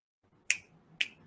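Two crisp finger snaps, or chutki, about half a second apart, keeping a steady garba dance rhythm, close and bright over a quiet room with no talking.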